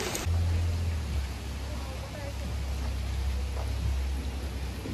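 Rain pours down in Jamaica, a continuous close hiss of drops with a low engine-like rumble underneath and voices talking over it.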